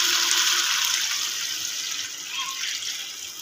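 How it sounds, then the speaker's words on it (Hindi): Mutton stock (yakhni) is poured into a pot of Mughlai mutton trotters curry, a close, steady liquid splashing and gurgling that gradually eases over a few seconds, with no voices. "अब मैं इसमें अपनी यखनी शामिल कर दूँगी।"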